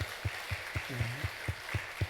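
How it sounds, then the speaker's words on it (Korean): Church congregation at a Sunday service claps in a slow, steady rhythm of about four beats per second, a faint, distant-sounding patter with a low sustained tone underneath, and no voices. "우리 박수로 우리 환영하겠습니다"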